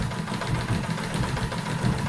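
A quilting machine stitches a peacock quilt, giving a low rhythmic mechanical chugging that pulses steadily at moderate level, alone without talk.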